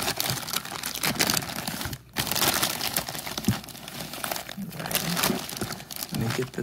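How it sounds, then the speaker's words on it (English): Plastic packaging crinkles and tears as it is pulled off a bored Maxbore throttle body for an FZ07, in quick, dense bursts close by. "Get this out of the plastic real quick and I'll show it to you guys."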